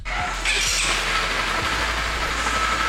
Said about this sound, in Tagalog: Ngayon naman pakinggan nyo kapag nag-i-start ang motor na to.